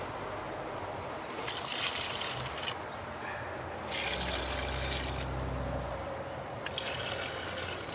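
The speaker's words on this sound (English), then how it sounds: "I'll water the little guys in." Rainwater poured over young seedlings in a July vegetable garden, heard as three separate hissing, splashing bursts of water with quieter pauses between them, close by with no talk.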